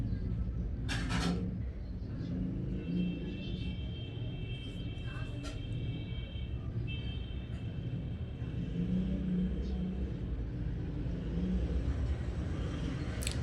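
Electric sewing machine stitching a blouse and its lining together in a straight line along the waist side, giving a steady, continuous motor whir with a low rumble throughout.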